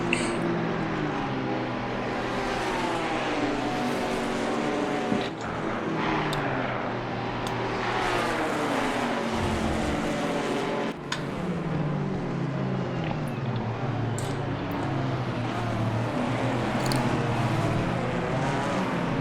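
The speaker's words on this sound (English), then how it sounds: "the Camaro stuck in a Ginetta sandwich, and it is in fact Nono Hara applying the pressure to the back of the Camaro" GT4 race cars, including a Camaro and Ginettas, run at the Spa-Francorchamps circuit, their engines giving a steady high-revving roar with gear shifts and passing swells, continuous and fairly close.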